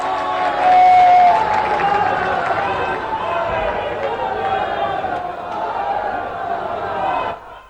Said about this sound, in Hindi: सभी लोग खड़े होकर जोरदार तालियों से उनका स्वागत करें